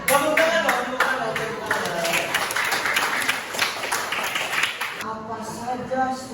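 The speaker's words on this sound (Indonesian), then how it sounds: "Tepuk tangan dong." Students in an Indonesian classroom clap together for about five seconds, a dense, fairly close patter of many hands, with voices mixed in and a brief quiet tail at the end.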